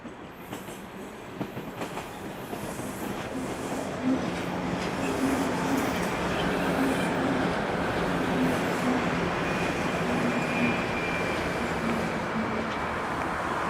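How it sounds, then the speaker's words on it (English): Subway train rolling past on a Toronto night, a steady broadband rumble and rail roar that builds and holds throughout, close and fairly loud, with no talk over it. "From the sounds of it, we're gonna see a subway train roll by"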